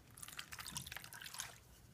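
Vinegar is poured onto chicken pieces, giving a quiet, steady trickle and light dribbling splash for about two seconds.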